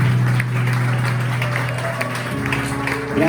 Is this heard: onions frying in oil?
no